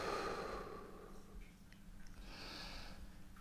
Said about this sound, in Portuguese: Inspira fundo, solta.